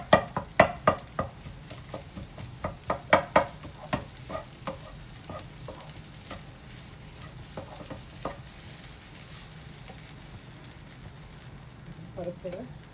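Sambar powder and small onions sautéing in a pan sizzle steadily. A quick run of spoon knocks and scrapes comes early, then the sizzle settles into a softer, even crackle under a faint murmur of voice.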